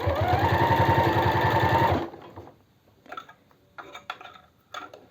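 A sewing machine stitching trouser seams runs in a steady, rapid whir for about two seconds, then stops, leaving quiet handling and rustling of fabric.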